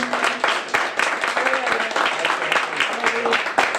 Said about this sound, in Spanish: Denle un aplauso al que vive y reina por los siglos.